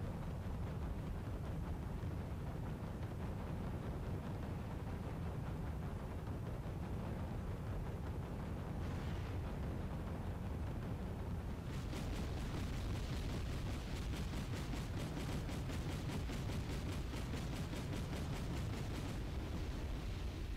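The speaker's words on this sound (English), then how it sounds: "The PT-71 is opening fire on the AMX MPs, which has exposed itself." Game gunfire from a PT-71 recon vehicle in Wargame European Escalation: a dense, steady barrage of rapid pops and booms. Around the midpoint it thickens into a fast, crackling rattle of shots that runs on over constant rumbling battle noise.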